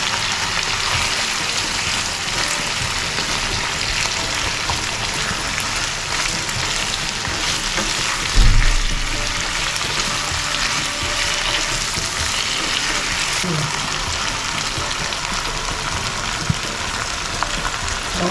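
Cumin paste frying with ginger in a pan for a Bengali katla fish curry, a continuous close sizzle and crackle with a brief stirring bump partway through.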